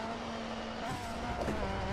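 A Ford RS200 Group B rally car racing in DiRT 4 rallycross, its engine holding a steady, fairly quiet drone with a slight rise in pitch partway through and some faint road noise beneath, no talk.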